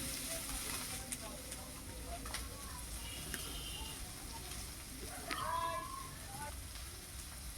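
Chopped onion and green chilli sizzle steadily in a pan of oil, a soft continuous hiss with faint stirring clicks and a voice speaking now and then.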